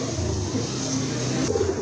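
Rajgolla pigeons coo at close range at a pigeon market, a low, soft, throaty murmur repeating over a steady background hum.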